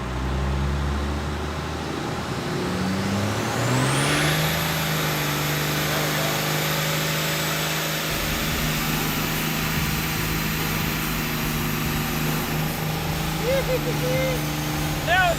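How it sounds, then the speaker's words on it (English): Roadkill ramp truck doing a line-lock tire burnout, engine revving up in a rising whine and holding a loud steady roar with tire squeal, continuous and close throughout. "Let's smoke some tires."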